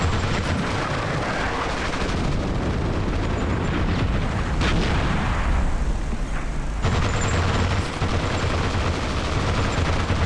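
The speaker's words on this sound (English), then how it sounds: "Let's get this guy with mortars." Mortar barrage in the tank game Armored Brigade II, a dense, continuous rumble of blasts and booms that holds steady throughout, loud and without pause.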